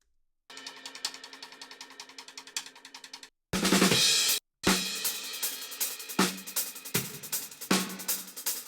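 A dry drum kit recorded in a very dead room plays solo without reverb, with tight snappy hits and short cymbal splashes, a brief dense crash-like burst midway, then steady kick and snare strokes continuing, close and unadorned.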